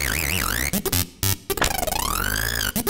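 A synthesized shape built by a Python sieve generator plays through a sequencer as a dense, buzzing electronic tone with wavering, sweeping pitch, brief noisy bursts and stuttering pulses, loud and continuous with no voices.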